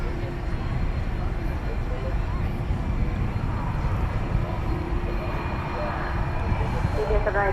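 A British Airways airliner passes at DFW Airport at night, a steady broad jet roar holding level throughout, with faint voices and distant airport noise mixed in.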